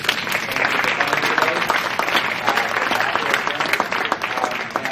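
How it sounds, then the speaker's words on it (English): A room full of people applauds after a panel session on public-private partnerships, a thick continuous wash of clapping that stays fairly loud and even throughout, with a few voices faintly mixed in. "So let's give you a round of applause"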